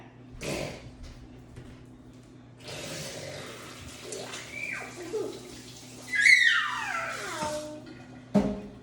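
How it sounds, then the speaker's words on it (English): Running tap water splashes over hands at a kitchen sink while cooking meatloaf, a continuous mid-level rush with some squeaks and clatter, ending with a sharp knock. "gotta wash my hands again"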